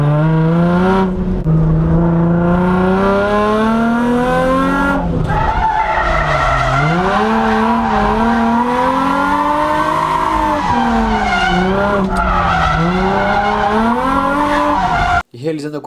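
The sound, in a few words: car drifting through tight curve, tires skidding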